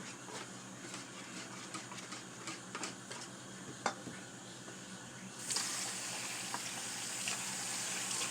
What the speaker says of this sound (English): I'm gonna put some more water in here.